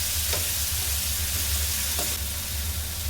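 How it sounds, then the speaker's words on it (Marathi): Marinated mushrooms stirred into a frying masala in a pan give a steady, close sizzle, with a couple of brief scraping stir strokes rising above it. "मशरूम घालायचं आणि ह्याला व्यवस्थित मिक्स करून घ्यायचं"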